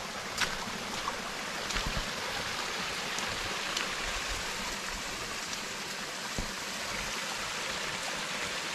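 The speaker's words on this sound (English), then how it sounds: "basically a creek." A creek at low elevation on the Appalachian Trail, fed by runoff from the mountaintop, flows with a soft, steady broadband rush, faint and constant throughout.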